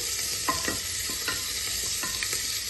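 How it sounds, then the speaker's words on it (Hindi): Soft, steady hiss of onion and garlic frying in oil in a pan, with a few faint scraping stirs breaking through at intervals; no one speaks. "प्याज को लहसुन को तेल के साथ भून लेना है।"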